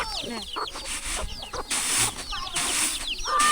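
Chickens cluck and chatter close by in a mountain village, with several birds calling in quick overlapping bursts against a steady outdoor hiss.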